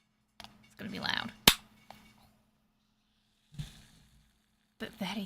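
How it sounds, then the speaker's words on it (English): A drink can cracks open with a single sharp, loud pop and brief fizz in a close ASMR-style setting, surrounded by quiet handling sounds and short bits of talk. "Should we do some ASMR can opening before we start today?"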